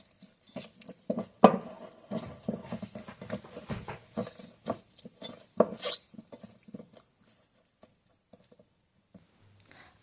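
Marinated chicken being mixed with black pepper in a bowl by hand, a run of irregular clinks and soft wet pats, close and quiet, dying away toward the end.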